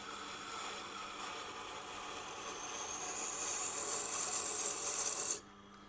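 A Wüsthof kitchen knife drawn repeatedly across a sharpening stone without oil, a continuous gritty rasping scrape that slowly builds in loudness before stopping abruptly near the end, close and alone.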